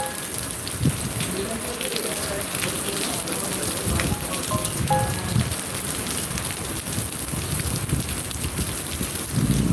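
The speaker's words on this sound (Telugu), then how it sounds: "కొద్దిపాటి వర్షానికే రోడ్లన్నీ జలమయమయ్యాయి" Heavy rain in Zaheerabad, falling on roads already waterlogged: a dense, continuous hiss of downpour with scattered sharper drops and splashes, steady and fairly loud throughout.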